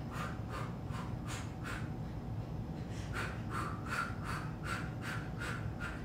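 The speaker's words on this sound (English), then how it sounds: "Mimic my breathing." A dance workout instructor breathes in a steady rhythm, short sharp exhalations repeating roughly every half second over a low background hum, close and fairly quiet with no talking.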